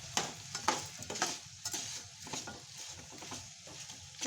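Bottle gourd curry being stirred with salt in a pan: soft, uneven scrapes and light sizzling pulses, quiet and close, with no voices.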